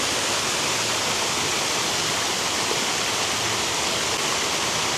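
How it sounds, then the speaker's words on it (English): Steady, dense rush of splashing water from outdoor fountains at the Mirage in Las Vegas, constant and loud without any voices. "Now it's just got some fountains."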